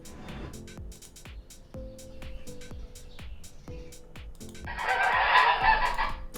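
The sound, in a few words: AI-generated chicken clucking sound effect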